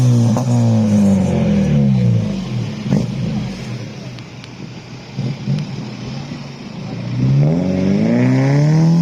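At a car meet in Portrush, a car engine revs loudly, rising and falling, fading into a quieter idle stretch, then climbs into another strong rev near the end.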